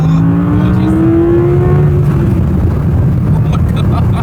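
An Audi R8 with a new transmission control unit tune accelerating hard from inside the cabin, a loud engine roar with rising pitch that climbs steadily, then a gear change and continued pull, with voices in the car.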